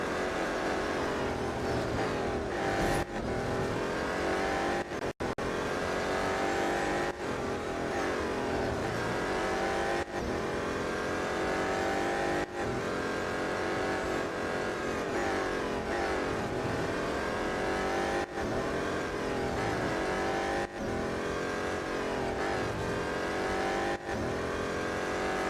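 A BMW M Hybrid V8 race car in Real Racing 3 drones at high revs throughout, a dense, steady engine howl with brief dips and surges at gear changes, loud and continuous with no talk.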